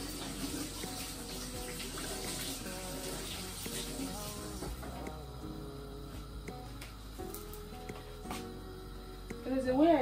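Tap water runs steadily into a sink during washing up in a home kitchen before eggs are fried, a continuous close splashing flow with a voice talking over it.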